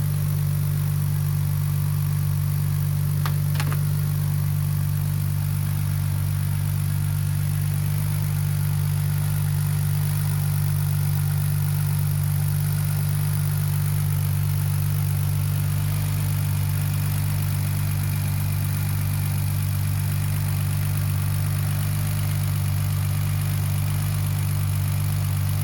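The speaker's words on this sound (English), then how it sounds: "So right now it's idling without the idle control valve." BMW E46 engine with aftermarket headers idling without its idle control valve, a steady low rumbling drone with even mechanical whir, loud and close throughout, with a couple of faint clicks early on.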